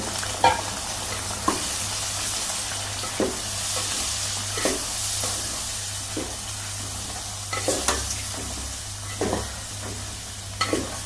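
Spice masala of turmeric, garam masala and salt sizzles steadily in hot oil, broken by a few sharp scrapes and taps of stirring.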